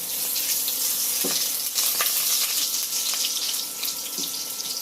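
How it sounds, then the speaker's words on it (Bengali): Cashews, white cardamom and cinnamon sizzle in oil in a wok with a bright, continuous crackle and a few soft stirring knocks. "কড়াইয়ে কিছু সাদা এলাচ, দারচিনি এগুলো দিয়ে আমি তেলে কাজু বাদাম এগুলো দিয়ে আমি একটু ভেজে নিচ্ছি"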